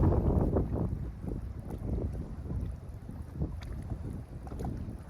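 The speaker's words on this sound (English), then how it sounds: "this wind is keeping me from casting far" Gusting wind buffets the microphone beside a lake bank during prespawn bass fishing, a steady low rumble that swells and dips throughout with no talking.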